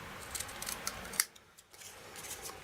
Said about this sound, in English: I want to snip that bit off.